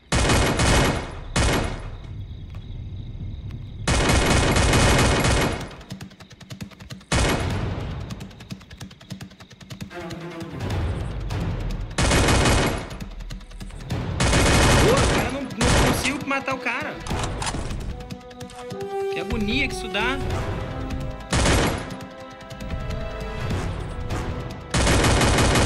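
Bursts of rapid gunfire in Free Fire, loud and close, coming in long volleys with short pauses and someone talking between them.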